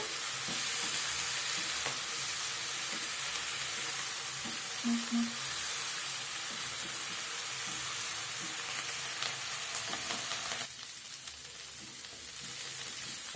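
Onion scapes fry in hot oil in a pan, a continuous bright sizzle and crackle with occasional stirring clinks; the hiss softens slightly near the end.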